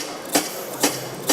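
A stainless steel chef's knife saws through a carrot on a Silgranit composite sink surface, three short evenly spaced rasping strokes, close and clear with no talk.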